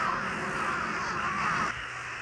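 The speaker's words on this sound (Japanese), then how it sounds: "空を埋め尽くほどカラスがいっぱいいます。" A large flock of crows cawing over a suburban residential area, a dense continuous chorus of overlapping calls at moderate distance that thins slightly near the end.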